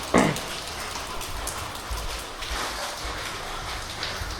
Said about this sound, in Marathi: अरे पाऊस